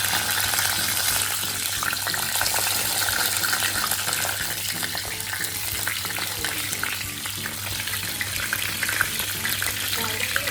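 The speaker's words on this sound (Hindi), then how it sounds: "इसमें मैंने लिया है सरसों का तेल। अब मैं इसमें जीरा डालूंगी।" Cumin seeds sizzle and crackle steadily in hot mustard oil in a pan, a loud, continuous close-up hiss with fine popping throughout and no talking.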